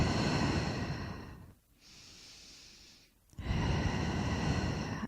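Slow, deliberate yoga breathing: a long, steady breath, a quiet held pause, then another long, audible breath, close and soft, with no talk.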